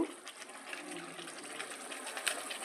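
Kewra water poured into a pot of paneer biryani, a soft, steady trickle and splash of liquid lasting a few seconds with no talking.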